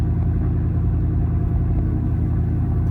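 A Ford F-150 Tremor's 5.0-litre Coyote V8 idles loudly through a straight, open exhaust, a steady deep rumble with a slight throaty pulse and no talking, with wind noise mixed in.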